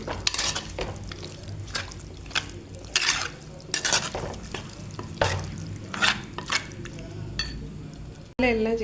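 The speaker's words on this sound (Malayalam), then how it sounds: "നമ്മൾ നല്ലതായിട്ടത് ഇളക്കുകയാണ്." Chicken curry is stirred in a pan, giving scraping spoon strokes and clinks over a soft sizzle, fairly close and moderately loud, with a brief louder clank near the end.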